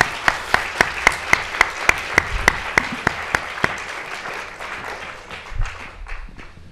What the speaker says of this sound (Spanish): yo le digo a todo el público que le damos un aplauso